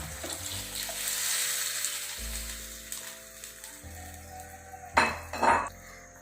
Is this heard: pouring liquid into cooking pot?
yes